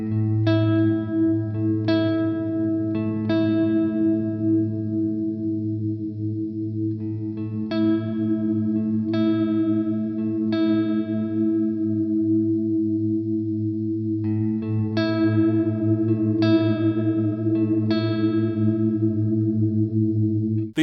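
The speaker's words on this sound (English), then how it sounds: "you can modulate the pitch of the reverb with your picking strength" Electric guitar chords played through a Cirrus reverb pedal whose reverb pitch is modulated by picking strength, producing repeated strummed phrases that bloom into a sustained, shimmering wash with a gentle warble, played alone with no talk.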